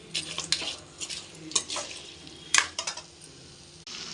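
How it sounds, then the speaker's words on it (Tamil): Lake crab stirred into ground masala in a frying pan, a soft background sizzle punctuated by several sharp ladle clanks and scrapes against the pan, close and intermittent. "இப்போ நம்ம நண்டு போட்டுக்கலாம். மசாலா நல்லா வதங்கணும்."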